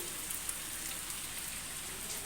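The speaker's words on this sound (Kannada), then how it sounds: "ಮಳೆ ಸ್ಟಾರ್ಟ್ ಆಗ್ಬಿಟ್ಟು ಚೆನ್ನಾಗಿದೆ ಮಳೆ" Steady rain patters on surfaces outdoors, an even, continuous wash of drops at moderate distance with no voices.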